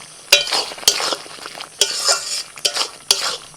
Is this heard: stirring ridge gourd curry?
yes